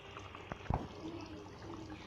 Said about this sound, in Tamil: இப்போ நம்ம முட்டை இதில் ஊற்றிடலாம்